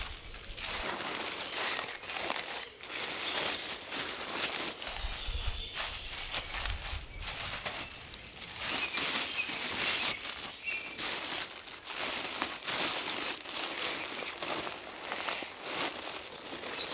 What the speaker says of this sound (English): Just simply put them in a plastic bag.